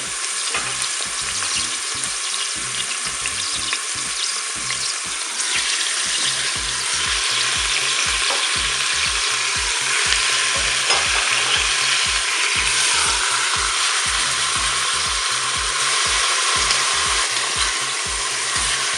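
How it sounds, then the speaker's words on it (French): Steaks frying with onions in a Cookeo multicooker, a loud steady close sizzle and crackle of hot fat continuing throughout, with no talk. "Je vais maintenant ajouter les steaks."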